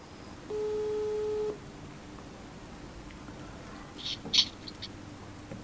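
A telephone call tone plays once as a steady electronic beep lasting about a second, followed by faint small noises and a quiet background.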